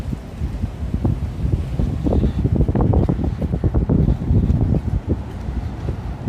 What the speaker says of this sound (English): I was just saying, windy day.